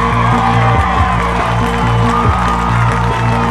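A home crowd at a college football homecoming game, North Greenville against Delta State, roars in a loud, dense wash of cheering, with a steady musical drone or band tones beneath it.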